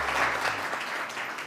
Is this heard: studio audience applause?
yes